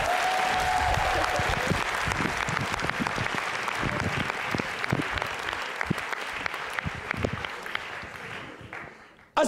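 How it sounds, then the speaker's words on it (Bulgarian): A live comedy show audience gives sustained applause for the comedians, a dense, even roar of clapping hands that holds for several seconds before gradually thinning and fading out near the end. "Аплодисменти за Руслан Майнов и за Петю Метков"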